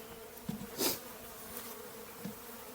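A small fall swarm cluster of honeybees being moved between hive boxes gives a faint, steady buzzing hum with a few brief louder passes of a bee flying close.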